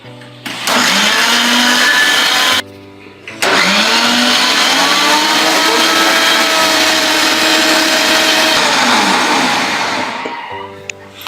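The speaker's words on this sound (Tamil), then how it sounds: "இப்போ வந்துட்டு எல்லாத்தையும் சேர்த்து நம்ம அரைச்சிக்கலாம்" Blender grinding beetroot with sugar and a tumbler of milk into juice, a loud steady whirring roar running about seven seconds after a brief start and short pause, then winding down at the end.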